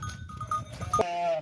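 A ewe calling for her lambs on a Turkish village farm gives a short, nasal bleat near the end, preceded by a mix of livestock noise and soft background voices close by.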